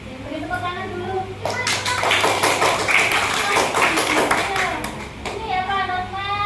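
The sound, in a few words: applause, audience clapping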